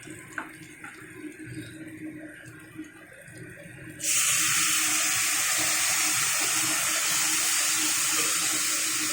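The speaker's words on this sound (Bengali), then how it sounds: "সামান্য একটু জল দিয়ে মশলাটাকে এবারে আমি কষিয়ে নেব।" Water is poured into a cooking pan of spice paste made with coriander, cumin, turmeric and chili powder for a hilsa fish head dish, and a sudden loud, steady hissing sizzle takes over after a few quiet seconds.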